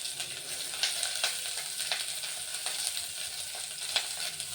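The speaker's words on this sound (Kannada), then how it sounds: "ಇದಕ್ಕೆ ಇವಾಗ ಈರುಳ್ಳಿ, ಟೊಮೆಟೊ, ಎರಡು ಈರುಳ್ಳಿ 2 ಟೊಮೆಟೊ ಹಾಕಿದ್ದೇನೆ" Onions and tomatoes fry in a pan with a steady close sizzle and crackle, broken by a few soft stirring scrapes and pops throughout, with no talking.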